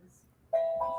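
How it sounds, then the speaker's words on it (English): Bright, sustained bell-like tones, taken for a kid's bell set though played on drums, ring out suddenly halfway through and hold steady after a quiet start. "No, that's Paul playing the drums."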